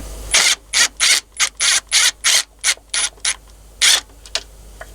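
A ratchet wrench clicks in rapid, loud bursts at close range while 10mm bolts come off a semi truck oil separator, about a dozen short ratcheting runs separated by brief pauses.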